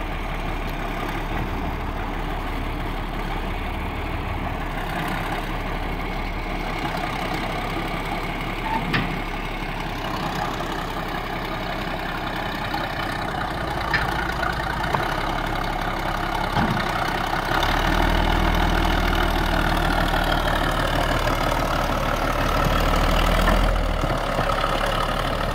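A John Deere 5020 tractor engine idles steadily nearby, a low continuous rumble with slight rises in level and a few faint clanks, no talking.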